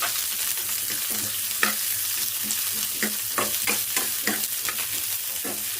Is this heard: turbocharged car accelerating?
no